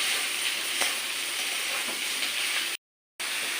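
Sliced ridge gourd sizzling in a pan with mustard and green chillies, a steady soft frying hiss that runs evenly, cutting out briefly near the end before resuming.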